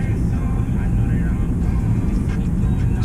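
An Infiniti G37 Skyline on a test drive, its engine a loud, continuous low drone heard from the cabin, with someone talking over it.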